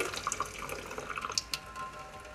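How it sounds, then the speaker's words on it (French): Water trickles and drips steadily at close range as violin bow horsehair is wetted with a little water, with small splashes and droplet taps throughout. "on va humidifier les crins avec un petit peu d'eau"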